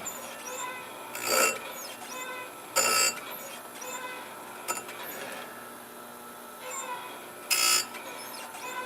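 A chainsaw chain being sharpened with a file, the rasping strokes coming in a few separate short bursts spaced seconds apart over a steady outdoor background hum.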